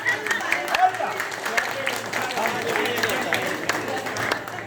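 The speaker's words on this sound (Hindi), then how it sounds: "एक बार पगड़ी उतारने के लिए जोरदार ताली होनी चाहिए।" Crowd clapping at a family ceremony in the middle of a turban ritual comes through fairly faintly. The patter of hands is largely masked by a person talking loudly over it.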